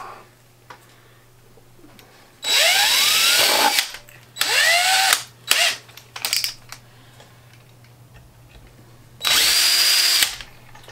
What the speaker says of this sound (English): And so I'm going to have to drill a hole there.